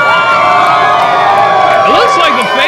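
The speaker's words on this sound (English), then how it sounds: "Half of them are cheering for Thunder Rosa, half of them for the Lion" Loud wrestling arena crowd at a Thunder Rosa versus Alejandra the Lion match cheers and shouts continuously, a dense wall of voices with individual whoops and high yells rising near the end.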